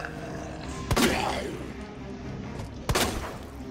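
Two heavy gunshots fired at a zombie's head in the video game Resident Evil 2 Remake, each a sharp booming blast about two seconds apart, ringing over a low, murky game ambience.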